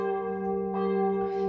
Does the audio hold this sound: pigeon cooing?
no